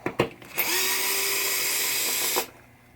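A cordless drill drives screws out of a 1973 Williams Travel Time pinball flipper assembly, with a few clicks before a steady, close whirring run of about two seconds that stops abruptly.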